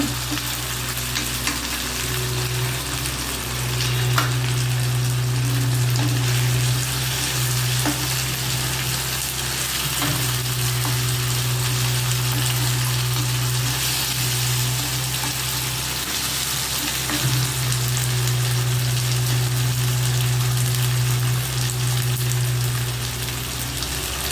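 Food frying steadily in a pan before half a kilo of broad beans goes in, a continuous close sizzle with a low hum underneath and occasional stirring scrapes throughout.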